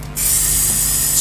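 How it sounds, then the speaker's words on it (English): A close, loud spray of paint from an aerosol can onto a costume outfit, one continuous hissing burst lasting about a second, alone without talk. "Spray paint."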